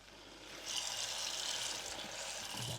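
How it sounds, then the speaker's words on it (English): Water pours into a pan holding a butter-based peanut sauce roux, a steady hissing splash that starts partway in and continues alone, fairly quiet. "Now we're quickly going to add some water."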